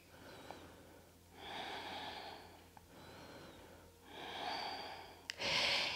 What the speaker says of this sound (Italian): Due respiri.